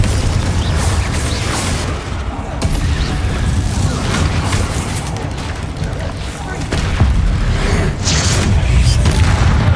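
Repeated Confringo explosive spells are cast in Hogwarts Legacy during a spider fight in the catacombs. They land as a string of booming blasts and bursts over a busy rumble, with voices heard now and then.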